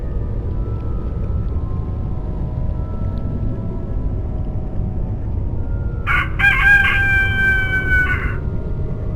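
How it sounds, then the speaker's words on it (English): A single rooster crow from a video game, A Vampyre Story, rings out clearly over a steady low background hum, lasting about two seconds near the end. "The sun has risen and the rooster crows."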